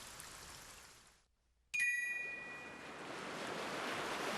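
Ocean wave sounds played from a speaker near a front door to calm a dog with separation anxiety: a soft steady wash of surf breaks off briefly, then returns with a short chime, no talking.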